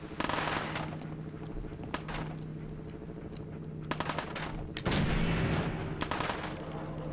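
Gunfire in the video game Fallout 4: bursts of automatic fire and scattered gunshots, fairly quiet and somewhat distant, with a louder cluster of shots near the end.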